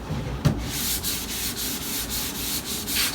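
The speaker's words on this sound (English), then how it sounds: "So what we do here is just sand these parts." An antique wooden dresser being hand-sanded, heard as rhythmic close back-and-forth scrubbing strokes, about two per second, with a knock near the start.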